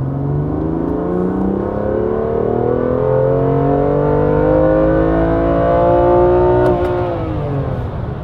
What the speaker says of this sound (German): So, wir sind jetzt bei dritten Gang, 1200 Umdrehungen. Jetzt ziehen wir mal den Gang durch.